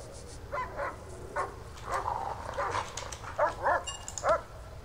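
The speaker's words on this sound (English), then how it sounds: "Looks like a dog just attacked somebody." Dogs bark and yelp in short bursts during an attack in the prison-management video game Prison Architect, several sharp yaps spread through the clip over a low steady background hum.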